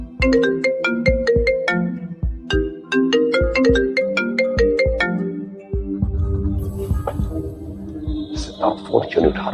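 A loud electronic phone ringtone plays a repeating melodic pattern, then fades into voices and clatter.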